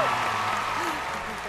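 An audience at a Chinese family variety TV show claps, a dense, continuous burst of applause that is loud and close for a brief moment, with a voice faintly over it.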